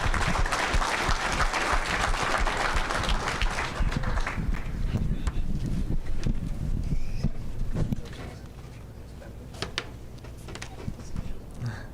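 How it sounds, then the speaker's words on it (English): Applause fills the room at an awards banquet for a champion, loud and dense at first, then thinning to scattered claps as it fades, with voices murmuring underneath. "Let's give him a round of applause."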